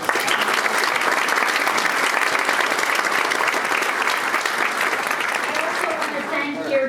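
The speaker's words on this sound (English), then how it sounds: "So let's give Sue Grief, founder of United We Can, a round of applause." Audience at a charity dinner breaks into steady, sustained applause, a dense wash of many hands clapping that holds evenly throughout at moderate loudness.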